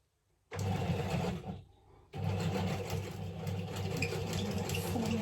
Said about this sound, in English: I'm just going to use a zigzag stitch this time, I think.